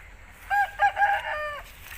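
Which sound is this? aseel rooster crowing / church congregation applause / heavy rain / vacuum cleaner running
aseel rooster crowing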